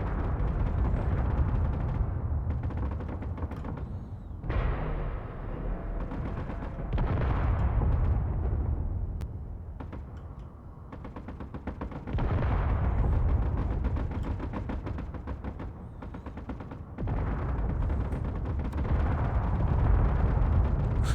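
Heavy gunfire and explosions as a convoy is attacked in the video game Escape From Mars, dense booming rumbles and rapid bursts in loud waves with brief lulls, continuing for about twenty seconds.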